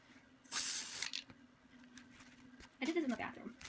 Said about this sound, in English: I'll spray some more here